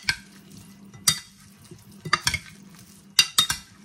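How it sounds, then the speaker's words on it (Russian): A tomato and cucumber salad with dressing is mixed in a bowl, giving intermittent wet, squelching tosses and sharp utensil clicks against the dish, close and fairly quiet between the bursts. "Все хорошо перемешиваем и подаем к столу."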